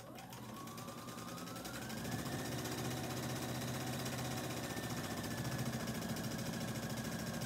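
A sewing machine running steadily through a straight stitch on fabric, a continuous close mechanical whir with a fast even rhythm that picks up slightly in speed and loudness partway through, with no talking.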